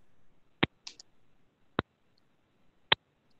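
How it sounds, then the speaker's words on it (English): Sharp, isolated clicks on a video call for a conservation board meeting: three distinct clicks spaced about a second apart, with a couple of fainter ticks between, over a quiet background. "I hear the click."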